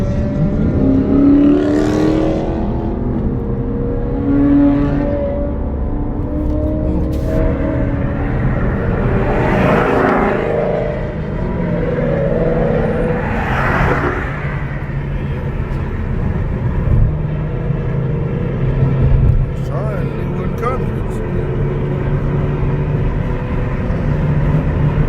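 Cars drive past at a car meet, engines swelling and fading one after another over a steady low rumble, fairly loud and near.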